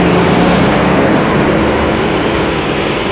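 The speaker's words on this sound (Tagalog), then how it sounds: "At nagpapalipad ka ng drone." Drone flying overhead outdoors, a steady loud broadband whir with a faint propeller hum, continuous throughout with no talk.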